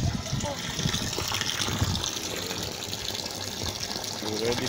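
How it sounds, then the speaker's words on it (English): Water from a solar helical rotor pump gushes and splashes steadily into a polytank, loud and close, with a low rumble running underneath. "Now we're filling the 40 milliliter polytank."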